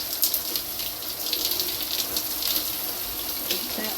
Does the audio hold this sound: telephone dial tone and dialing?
no